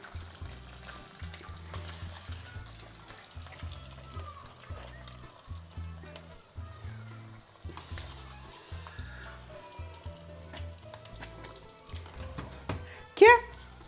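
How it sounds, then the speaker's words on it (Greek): Onion and garlic sautéing in a soup pot, a steady soft frying sizzle with stirring scrapes, running under continuous speech and a brief louder clank near the end. "θα το σοτάρουμε και όσο θα σοτάρουμε το κρεμμύδι με σκόρδο"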